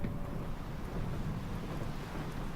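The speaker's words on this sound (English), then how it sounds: "It's really windy." Strong wind buffets outdoors on a downtown street in Abilene, a continuous low rumble and roar across the mic with no pauses, loud and close.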